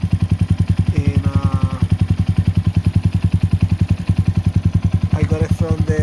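A 2022 Honda Monkey motorcycle with a Yoshimura exhaust idles nearby with a deep, even, rapid thumping pulse, steady and loud, while people talk briefly over it.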